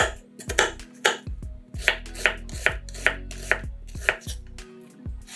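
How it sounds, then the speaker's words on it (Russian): A knife chops an onion into cubes on a board, quiet and close, with about a dozen crisp, evenly paced strikes landing in a steady rhythm. "1 луковицу нарезаем кубиками"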